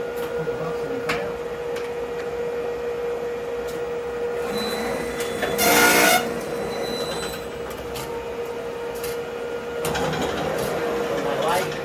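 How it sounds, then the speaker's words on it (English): A Duplo DPB 500 perfect binder trims a book on three sides, giving steady machine hum with a louder mechanical cutting burst partway through and another near the end, with a person talking over it. "So now I can trim this particular book 3 sides and we have our finished product."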